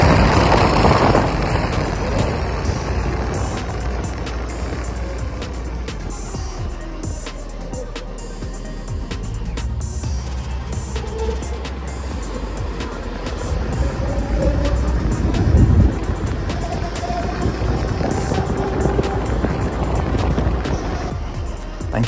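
A Zero S 11kW electric motorbike pulls away from traffic lights, its motor whining up in pitch over loud road and wind noise, with a sharp bump partway through; no one speaks.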